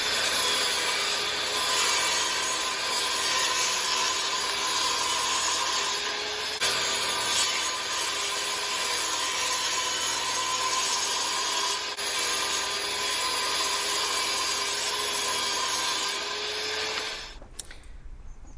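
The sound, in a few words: sawing a wooden bed slat to size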